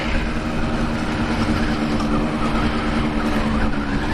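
An old two-stroke motorbike out on a ride, its engine giving a close, continuous buzzing drone with a steady pitch and a rough, gritty texture, running throughout without any speech.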